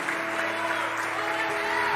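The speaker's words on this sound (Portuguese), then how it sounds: "Então aplauda o Senhor." A church congregation applauds during an evangelical worship service, a steady wash of many hands clapping together at moderate volume, with a faint sustained musical tone running underneath.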